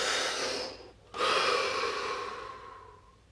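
One person breathes deeply and nearby, with a long breathy inhale, a short pause, and then a long, slowly fading exhale.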